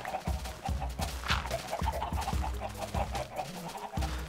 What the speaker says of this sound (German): jetzt komme ich in die Hühnerfarm